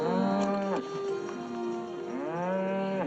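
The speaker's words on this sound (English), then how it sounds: "The sound that the horse is making as she digs her spurs" A horse cries out in distress as a rider digs in spurs during a film scene, a loud, drawn-out, wavering call that rises and falls in several long phrases.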